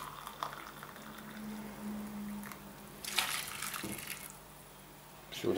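Boiled water pours and splashes into two glass containers in a couple of bursts, for cooking rice in a microwave, with bubbling liquid and a low hum underneath.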